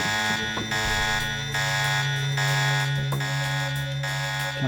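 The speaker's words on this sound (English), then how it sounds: "set the alarm off again" Alarm blaring in the video game Deus Ex: Revision, a loud steady electronic siren tone pulsing in even cycles about every half second to second. It continues unbroken with no talking over it.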